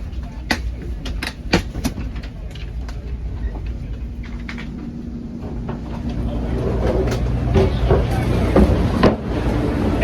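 An Amtrak Acela high-speed train at a stop, with a low steady rumble, scattered clicks and clunks, and a swelling mechanical hum toward the end, while voices talk over it.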